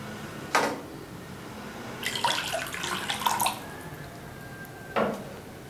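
Water poured into 100 grams of ghee while mixing namak paray dough, heard as a short splash, then a longer close pour lasting over a second, and another brief splash, with no talking.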